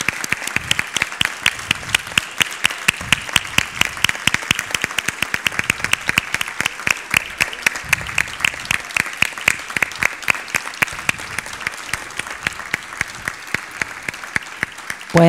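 An audience at a kindergarten graduation ceremony for the five-year-old class claps steadily and loudly, sustained applause with a few louder individual claps standing out, continuing without pause for the whole stretch.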